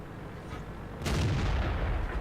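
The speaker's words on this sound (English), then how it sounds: "Fires another shot in the move that misses" T-34-1 tank in a World of Tanks battle fires a cannon shot, one loud heavy boom that rolls on under steady low engine and battlefield rumble.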